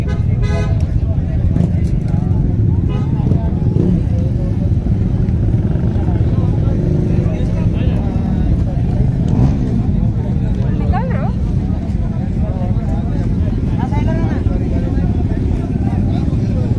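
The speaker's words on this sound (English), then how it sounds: "here are a few of the bikes which are racing here." Motorcycles racing at India Bike Week give a loud, constant engine rumble with passing revs and an occasional horn, while a person talks over the noise.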